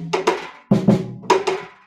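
A drum kit plays a short, dry pattern of cross-stick clicks on the snare and open tom tones, three pairs of crisp strikes in an even rhythm, close and alone.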